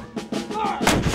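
Heavy American Civil War cannon booms in quick succession at the 1863 siege of Vicksburg, a rolling series of deep blasts building to a louder, broader roar near the end.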